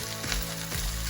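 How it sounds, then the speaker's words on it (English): Fried rice sizzles and crackles loudly in a hot pan, a constant dense frying hiss broken by brief scraping pulses as it is stirred. "Stir, stir, stir."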